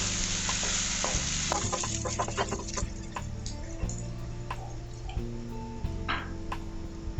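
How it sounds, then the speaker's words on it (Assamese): Onions and bay leaves browning in hot oil for an Assamese chicken curry, a steady close sizzle broken by occasional spatula stirring clicks, with no voices. "এতিয়া পিঁয়াজখিনি অলপমান ৰঙচুৱা হোৱালৈ ভাজি থাকিম।"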